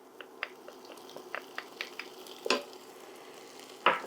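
Minced garlic sizzles in a pan with softened browned onions for a poblano chicken soup, a quiet crackling fry marked by light spits and a couple of sharper utensil taps, no talking.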